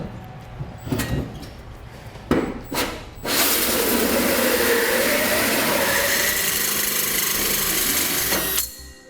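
A 3.5 inch hole saw cuts through a Ram pickup's truck bed, opening with a few sharp knocks and short bursts. It then settles into a loud, steady grinding whir for several seconds before stopping abruptly with a final clatter.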